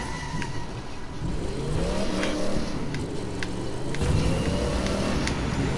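A muscle car's engine in the racing game The Crew 2 revs and surges in two rising sweeps, a steady mid-pitched drone swelling louder toward the end with faint electronic chirps over it.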